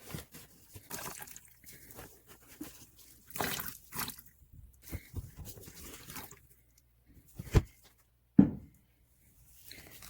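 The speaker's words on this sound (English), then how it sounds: "You want to be able to squeeze out a few drops like that, but not running water" Water drips from damp worm bin bedding squeezed by hand in a new European nightcrawler bin, with soft wet rustling and squishing, then a couple of faint, brief drops near the end.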